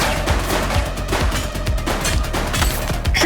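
Sustained gunfire in The Precinct police game, with dense overlapping bursts of shots at close range over a loud, continuous action soundscape, and no talking.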